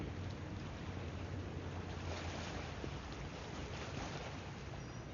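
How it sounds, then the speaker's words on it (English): Ocean water in a Miami bay washes and laps continuously under steady wind buffeting on the microphone, with a low rumble throughout and no voices. "Listen to this ocean."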